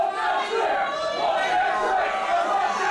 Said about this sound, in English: Crowd trying to get behind Shay Cash and fire him up.